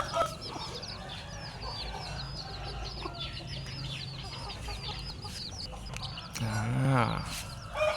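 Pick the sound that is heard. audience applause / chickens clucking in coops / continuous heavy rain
chickens clucking in coops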